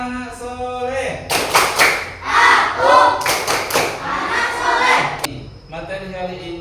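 A class of children claps out a rhythmic spirit cheer, several sharp bursts of group clapping mixed with chanting voices, near and lively, ending with a single loud clap.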